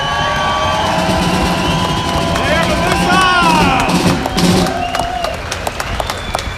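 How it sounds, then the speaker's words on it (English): A rally crowd at a state capitol claps and cheers in a steady, dense wash of applause, with voices and crowd chatter mixed in. "let's give all of those people one more round of applause for what they've done for this movement."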